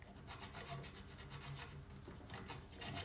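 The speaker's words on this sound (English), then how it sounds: "So let's do some filing" A file rasps steadily against a plastic cable stop on a vintage Italian Atala bike frame, rapid continuous scraping strokes, close and fairly quiet, with no talk.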